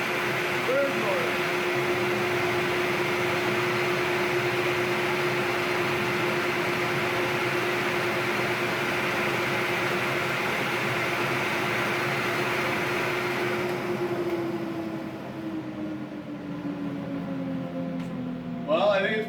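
Dust collector motors, a Record Power Camvac against two standard 1 horsepower units, roar together in a loud steady whine and rush of air, then spin down near the end as a voice begins speaking.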